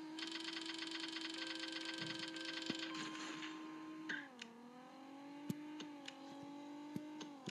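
A race car engine in the Racing Rivals game revs hard with a steady, tonal whine, then drops pitch at a gear shift and climbs again, with brief clicks and a few more quick shifts near the end.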